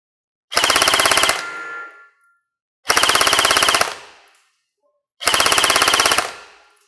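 A Specna Arms Edge airsoft rifle on an 11.1 volt battery fires three separate full-auto bursts of roughly a second each, a rapid, sharp mechanical rattle with short silent gaps between bursts.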